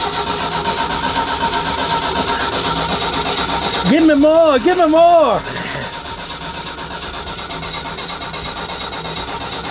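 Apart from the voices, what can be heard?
old auger machine engine cranking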